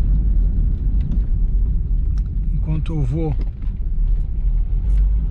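Steady engine rumble and road noise from inside a classic Volkswagen Quantum station wagon on the move, loud and continuous, with a voice speaking briefly over it.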